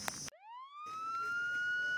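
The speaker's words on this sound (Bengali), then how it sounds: "পুলিশের আওয়াজ বাজছে, সাইরেন বাজছে মনে হচ্ছে।" A police car siren starts after a short noisy burst, its wail sweeping upward in pitch and then holding a loud, steady tone close by, with faint background noise beneath.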